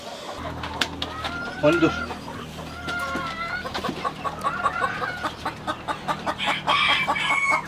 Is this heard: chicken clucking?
yes